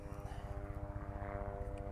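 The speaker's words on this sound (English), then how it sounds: "The helicopter." An aircraft drones overhead above an outdoor camp shelter site, a steady pulsing engine hum with a distinct throbbing beat, fairly faint and continuous throughout.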